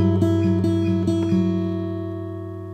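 Fingerstyle acoustic guitar alternating between the first and third strings, a few clear plucked notes over a ringing chord that then sustains and slowly decays, close and alone.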